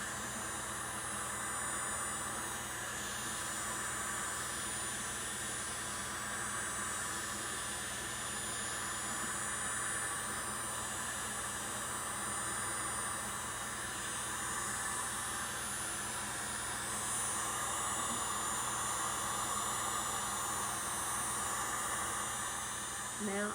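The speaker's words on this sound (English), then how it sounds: "Now I have finished heating the tumbler up for 6 minutes with the heat gun" A heat gun blows a steady, even rush of hot air with a constant hum while heating a 17oz sublimation water bottle tumbler, unbroken throughout, with faint talk in the background.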